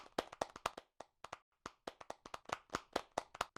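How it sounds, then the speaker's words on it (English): A virtual applause sound effect plays: clapping hands in quick, irregular bursts with a brief gap partway through, moderately close and dry, with no talking. "In the meantime, everybody, you click F4. That's applause."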